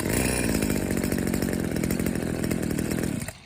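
The small two-stroke engine of a WeedEater Featherlite SST25 string trimmer runs loud and close, with a rough, buzzing rasp. It holds steady for about three seconds, then cuts out abruptly.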